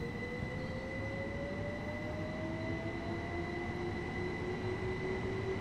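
Train rolling along in the Train Sim World game on the East Coastway route, a steady rumbling run with a faint rising whine and a high tonal hum, no voices.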